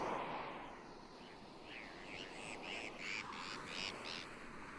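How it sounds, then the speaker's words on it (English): Birds chirp close to the microphone, a run of short, bright repeated calls rising over a broad, steady hiss, with no voices. "it sounds like those birds are like right in my fucking ear"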